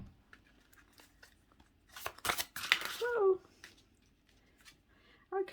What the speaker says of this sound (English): we're going to shuffle that